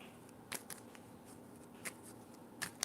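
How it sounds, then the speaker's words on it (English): Tarot cards are being shuffled by hand in a quiet room, giving a few soft, scattered riffling bursts separated by near silence. "I'm going to shuffle for you"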